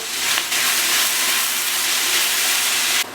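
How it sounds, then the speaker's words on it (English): Lamb sizzling loudly in a hot pan with peppers over medium-high heat, a dense continuous hiss filling the whole clip, close and steady, with no talk. "I'm going to cook the lamb now until it gets a seal on it"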